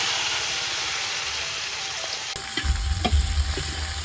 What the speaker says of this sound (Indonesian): Lomboknya digoreng